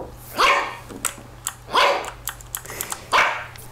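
Small puppy-like dog barks three times in short yapping bursts with faint quicker yips between them, close and clear with no talk.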